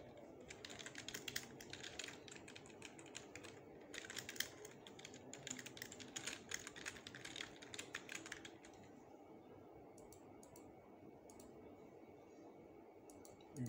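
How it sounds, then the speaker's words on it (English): Rapid, close clicking of keys on a computer keyboard runs in bursts for several seconds and then stops, leaving faint room noise. "I'll simply just type in."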